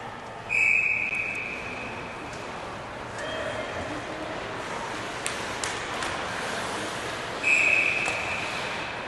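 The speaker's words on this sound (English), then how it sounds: "Whistled down, Watco in along the boards there" Referee whistle blowing to stop play at a youth hockey game in an arena, two sharp shrill blasts near the start and end over crowd murmur and skate noise.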